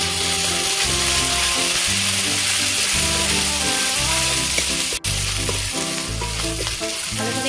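Ground chili, cumin and coriander powders frying loudly in hot oil for a mustard paste curry, a dense steady sizzle close up with stirring throughout and one brief dropout near the end, no speech.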